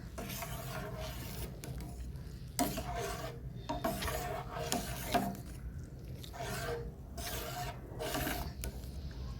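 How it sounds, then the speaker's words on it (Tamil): Milk being stirred into semiya payasam in a pot, giving a steady scraping, rubbing sound of a ladle against the pot with repeated strokes, fairly close and continuous, with no talk. "ஸோ நல்லா பால் ஆட் பண்ணி நல்லா கிண்டி விடுங்க."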